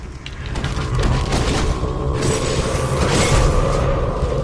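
Demons bursting into energy in the Marvel Ultimate Alliance video game: a loud, continuous roar of crunching booms and creaking mechanical noise, swelling repeatedly over several seconds with no talk.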